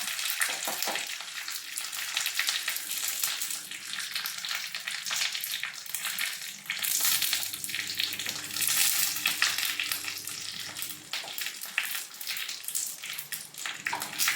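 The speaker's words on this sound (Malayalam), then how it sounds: "എല്ലാം കൂടെ ഒന്ന് മൂത്ത് വന്നേക്കാം" Ingredients for a traditional mackerel curry fry in a pan, a steady loud sizzle and crackle that runs unbroken throughout with no talk.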